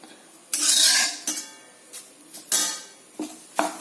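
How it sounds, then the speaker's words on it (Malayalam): Curry leaves stirred into grated coconut roasting in a pan for chammanthi podi: a spoon scrapes and clatters against the pan in several separate strokes, close and fairly loud, with quiet gaps between them and no talking. "ഇതിലേക്ക് കറിവേപ്പിലയും ഇട്ടാണ്"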